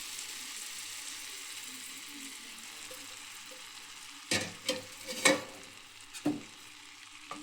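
Tomato and tamarind puree hits a hot pan and sizzles softly, with a few short clattering bursts of stirring toward the end, fairly quiet overall.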